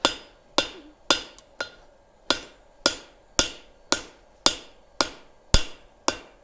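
A blacksmith's hammer rings on hot iron over a big anvil, a dozen sharp metallic strikes at an uneven, roughly half-second pace, each decaying quickly, close and clear with no voices.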